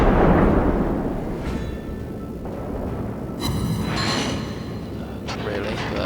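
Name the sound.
warship AP shells firing in the video game World of Warships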